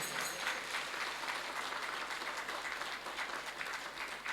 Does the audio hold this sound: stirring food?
no